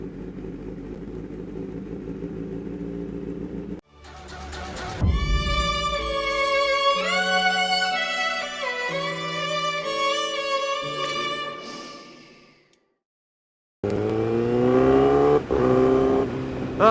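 Honda CBR 1000RR sport motorcycle nicknamed Ebull, its engine revving up and down in stepped, wavering bursts, broken by a short silence before another loud rev; nearby and loud, with no talking.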